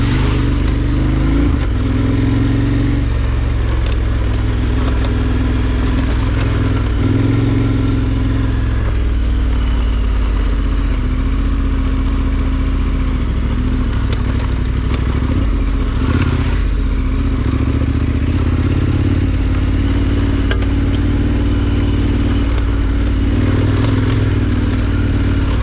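KTM 1290 R adventure motorcycle climbing a muddy, rocky hill on Duck Creek Road in first gear, its engine droning loud and close throughout with shifting revs and gravelly clatter from the terrain.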